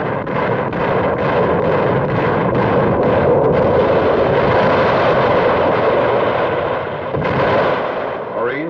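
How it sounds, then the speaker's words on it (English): Naval shelling of Peleliu island in World War II, with landing craft adding fire: dense, continuous booming and rumbling blasts, loud and close, with rapid overlapping detonations. "The shelling of the island continues, supplemented by fire from landing craft."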